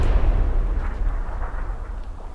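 A grenade detonating in a squad-based military shooter game, a heavy low-frequency boom with rumbling decay that fills the short moment, loud and close with no talking.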